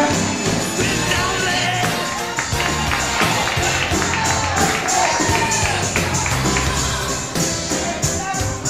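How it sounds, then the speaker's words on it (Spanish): Applause and cheering from a wedding crowd for the couple, steady and loud throughout with mixed voices and taps under it. "le damos un aplauso para ellos"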